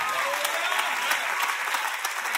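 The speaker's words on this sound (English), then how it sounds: "I gotta clap my hands like the trees of the field" Church congregation clapping their hands in rhythm, sharp repeated claps forming a steady beat over a full wash of crowd sound, with no clear speech.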